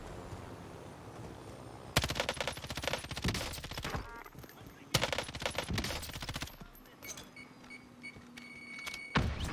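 Rapid machine-gun fire in Warzone clatters in dense repeated bursts with sharp onsets, mixed with distant shots and a brief stretch of quieter battlefield noise, and a voice occasionally speaks over it.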